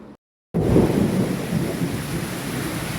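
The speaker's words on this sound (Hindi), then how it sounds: "तूफ़ानी बारिश हो रही है, तूफ़ानी बारिश।" A thunderstorm with heavy rain, a sudden dense roar of downpour breaking in after a short silence and holding steady, loud and close, with deep rumbling underneath and no voices.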